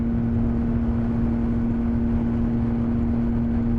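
Honda VFR 750-replacement motorbike engine held at constant throttle, a loud, steady droning hum with a strong unchanging tone and no variation in pitch, heard alone throughout.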